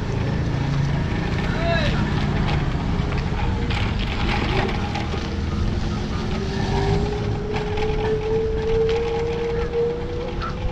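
An electric smart bike runs in Chennai, its motor giving a faint rising whine over steady rumbling road and wind noise, while a person talks throughout.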